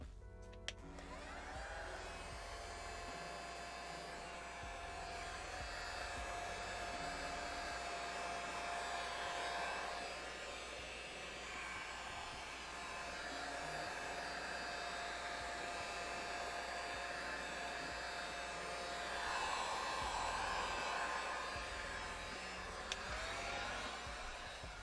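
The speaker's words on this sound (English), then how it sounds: "I'm gonna try the heat gun" A heat gun blows hot air over poured paint on wooden boxes, a steady, close whooshing roar that holds on its own for the full stretch with only slight swells.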